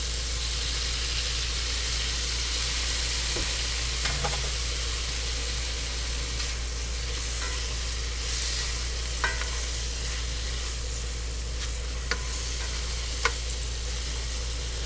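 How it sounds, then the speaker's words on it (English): Mushrooms fry in a pan with a splash of soy sauce, a steady loud sizzle running throughout, with occasional faint clinks and stirring scrapes from close by and no talking. "Now basically you want to cook these till they shrink half in size"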